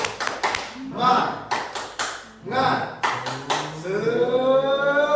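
Indonesian classroom spirit clapping (tepuk semangat): sharp group claps in a quick rhythmic pattern of short bursts, with chanted voices joining and a sustained shout at the end.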